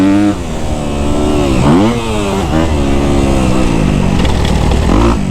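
Kawasaki KX250F dirt bike engine running steadily while being ridden, with the pitch rising and falling through several throttle changes and a continuous buzzing drone close to the mic.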